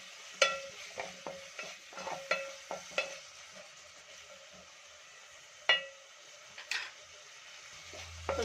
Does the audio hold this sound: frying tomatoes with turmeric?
yes